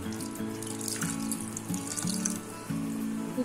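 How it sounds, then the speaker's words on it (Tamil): Water streams into chicken kurma simmering in a cooking pot, a steady pouring splash that lasts about three seconds with slight pulses, close and fairly loud, with no talking. "ஒரு 1 கிளாஸ் அளவுக்கு தண்ணி சேர்க்கிறேன்"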